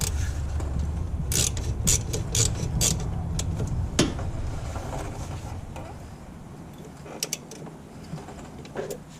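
A ratchet on a wobble extension tightening the starter bolts on a 2007 Chrysler 300, with repeated close creaking clicks and metallic ratcheting bursts in a garage, fairly loud, with no voices.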